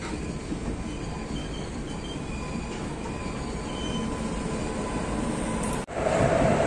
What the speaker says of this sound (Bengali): এই যে ট্রেনটা আসছে না, এটা হচ্ছে হাওড়া মথুরা চম্বল এক্সপ্রেস